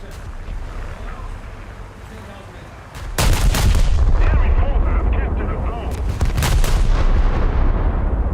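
Battleship main guns fire in the World of Warships naval game, a loud, dense burst of booming salvos that erupts suddenly after a quieter stretch and rolls on continuously, with further heavy blasts following.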